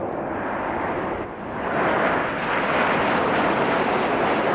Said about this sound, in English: Each aircraft crossing in the middle, only 30 metres wingtip to wingtip, that's only 100 feet as they now pull up to